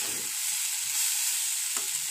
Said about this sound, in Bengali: সেই তেলটাতেই দেখো আলুগুলো কি সুন্দর ভাজা হয়ে গেল।